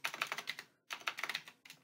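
Rapid, light computer keyboard keystrokes typing into a search bar, two fast bursts of clicks with a short gap and a few more taps at the end, quiet and close.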